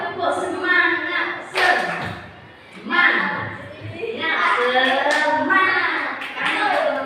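Children in a classroom clap a rhythmic spirit-clap chant together, bursts of hand claps and young voices rising and falling across the clip, with an adult voice leading between rounds.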